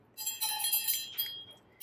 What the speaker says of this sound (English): Now see how this sounds kind of tinny and jangly?